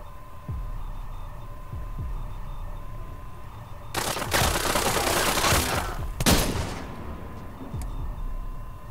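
Automatic gunfire in the video game Splinter Cell Blacklist, two loud sustained bursts separated by a brief pause, over a steady background hum with faint thuds.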